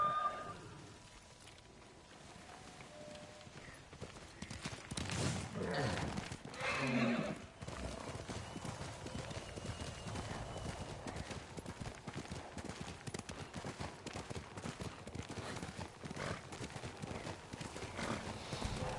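A horse whinnies briefly in the video game Ghost of Tsushima, then steady hoofbeats gallop along over a dense, busy game soundscape with a low rumble beneath.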